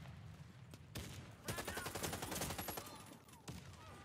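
Rapid bursts of AUG A3 HBAR rifle fire in the video game Warface on Nintendo Switch, a sharp rattling volley in the middle of a quieter stretch.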